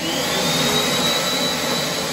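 An Abis hand dryer blows in a pub restroom, a steady, loud, continuous airflow roar with a whining motor tone running unbroken throughout, no voices over it.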